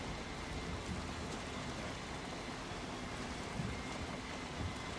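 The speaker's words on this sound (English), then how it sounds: "Alright, here comes the storm." Thunderstorm rain in the game Valheim, out on the ocean: a dense, steady hiss of downpour with a low rumbling undertone throughout and a few slightly louder swells.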